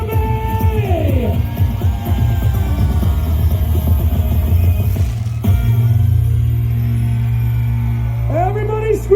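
A large audience cheers and shouts at a Pikachu night dance show at Marina Bay, Singapore, with sustained crowd noise under an announcer's voice and music.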